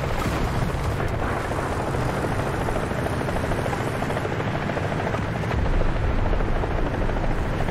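A helicopter in the War Thunder combat game gives a loud, continuous rotor roar that holds steady throughout, with faint booms of gunfire underneath and no speech.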